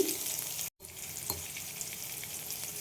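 Peeled eggplant frying in a pan with black cumin seeds, a bright continuous sizzle interrupted by a brief dropout, then a soft stir or clink before the sizzle carries on.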